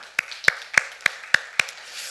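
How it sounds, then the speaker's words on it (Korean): Applause at a church Bible lecture, heard as six sharp, evenly spaced hand claps, close and dry, with no voices. "하나님께 영광의 박수 올려드립니다"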